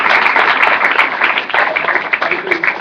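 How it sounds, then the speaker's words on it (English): Applause from an audience at a small business meeting, steady clapping of moderate volume from a modest crowd, heard close and slightly muffled, with some voices mixed in. "First, could we get just a round of applause for Marjorie Young?"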